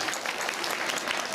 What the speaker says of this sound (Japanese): みんな拍手だ。